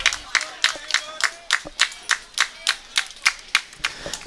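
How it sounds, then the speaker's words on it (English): Baseball fans at a Hays Larks versus Derby Twins game clap in a steady, rhythmic beat of about a dozen sharp claps, fairly close and clear, with faint crowd murmur beneath. "Some of the fans clapping here, trying to urge Derby to get out of the inning."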